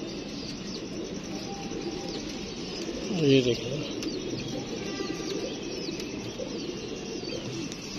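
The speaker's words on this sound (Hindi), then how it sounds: "उसके बाद ये हमारा माशाल्लाह कसूरिया कबूतर है, और इसके साथ उड़ी हुई मादी" A Kasuri pigeon gives a short soft coo near the middle, set against a busy backdrop of other birds chirping and someone speaking briefly.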